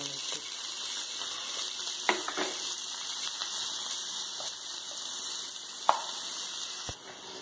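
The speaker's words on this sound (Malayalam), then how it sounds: "സവോള വഴറ്റുന്നു." Finely chopped onions and green chillies sizzle steadily in hot oil in a pan, with a few sharp clicks from stirring.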